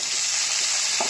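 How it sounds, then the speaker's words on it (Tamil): Chopped large onion sautéing in a pan, a brief bright sizzle with a stirring scrape near the end, close and without voices. "இப்போ பெரிய சைஸ் வெங்காயம் கட் பண்ணி எடுத்து அதையும் போட்டு வதக்கிக்கிறேன்"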